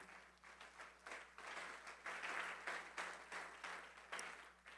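A church congregation applauds during a Spanish-language worship service, a dense, steady wash of many hands clapping for several seconds, fairly faint and distant in the room.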